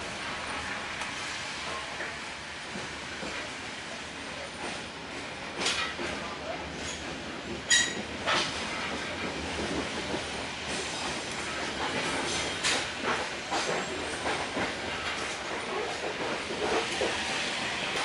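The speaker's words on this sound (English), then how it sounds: "we're just waiting for this train to depart from this station." Bandung Raya economy train standing at Padalarang station, a steady broadband hiss and rumble of the idling train with scattered clanks and brief metallic squeals, no talk.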